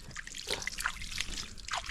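Soft, quiet splashes and trickles of water splashed at a crab, a few small irregular bursts close by.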